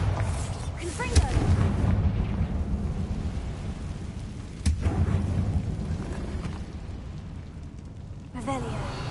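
Spell blasts from Bombarda and Confringo in Hogwarts Legacy on PS5, heard as booming impacts, one near 1 s and another near 4.7 s, over a continuous rumbling game soundscape.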